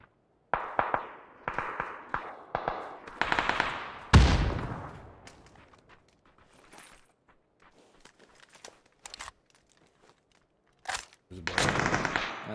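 Bursts of automatic gunfire in the battle-royale game PUBG come in rapid clusters, then a single heavy blast rings out and decays, followed by quieter scattered shots and a final loud volley.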